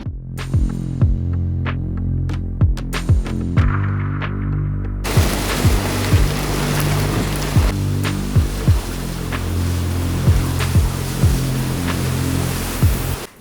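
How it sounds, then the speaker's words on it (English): Strong wind and waves sweep around a sailboat as a storm arrives, a loud steady rushing roar over a low rhythmic throbbing hum with recurring thuds, without any talk. "The storms are coming in, it's getting windy"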